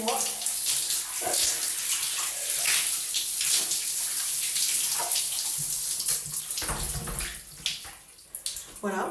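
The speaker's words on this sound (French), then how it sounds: "j'en profite pour passer l'eau sur moi" Shower water pours steadily over a person's body and hair, a continuous close hiss and splash with brief shifts as the spray moves, easing toward the end.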